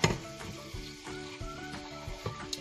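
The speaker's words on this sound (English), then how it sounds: "Saute lang natin lahat yan all together." Garlic, tomato and onion sizzle in hot oil in a pan while being stirred for bopis, with a steady frying crackle and repeated soft scrapes of a utensil against the pan, close up and without talk.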